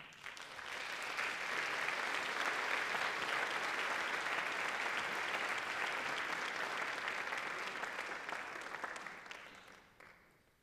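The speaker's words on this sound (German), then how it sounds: "Bitte gebt ihr einen sehr, sehr großen Applaus." Sustained audience applause for a speaker at a civil-society talk on algorithms and AI, swelling quickly, holding steady for several seconds, then fading out.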